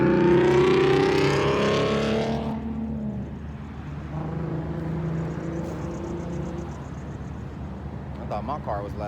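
Loud car roaring past close by, engine noise swelling in the first two seconds and then fading away into background hum.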